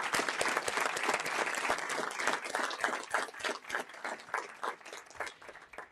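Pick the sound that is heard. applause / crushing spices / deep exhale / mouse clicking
applause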